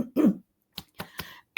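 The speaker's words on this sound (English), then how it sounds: "So overcome, I'm coughing." A man coughs during a live online business leadership talk, a short burst of close coughing followed by several smaller throat-clearing coughs, loud and with no other sound around it.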